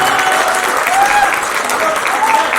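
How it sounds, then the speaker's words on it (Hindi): Audience at a live Hindi stand-up comedy show in a hotel venue applauds, a thick continuous clatter of many hands, loud and near throughout, with a few voices faintly in the mix. "आपके लिए तालियां बजनी चाहिए या नहीं बजनी चाहिए?"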